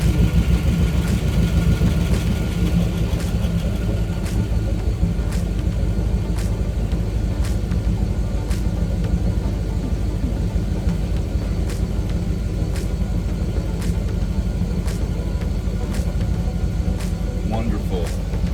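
An Indmar 5.7 liter engine in a 2002 Mastercraft boat, just repaired after oil pressure loss, runs at a steady idle, a continuous low rumble with someone speaking over it.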